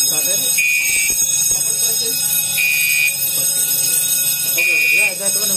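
Fire alarm sounding during a full discharge test of an FM200 aerosol fire suppression system after a second-stage heat detector trips, a steady loud high-pitched tone pulsing in repeated beeps, with people talking underneath.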